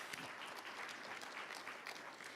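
An audience at a business leaders forum claps in steady, dense applause, many hands at once filling the hall at an even level from start to finish.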